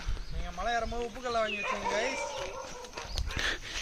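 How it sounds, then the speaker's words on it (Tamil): A dog barks and yelps in a few quick bursts close by while people talk over it. "நாய் குலைக்குது"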